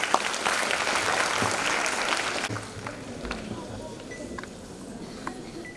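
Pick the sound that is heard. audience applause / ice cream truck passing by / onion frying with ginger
audience applause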